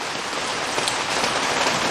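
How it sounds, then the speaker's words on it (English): Steady rain falls on a garden of bare-root trees and compost-covered beds, a dense, even hiss of drops striking surfaces nearby, with no voices. "Guess it started raining again."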